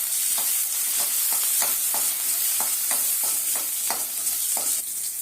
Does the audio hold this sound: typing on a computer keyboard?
no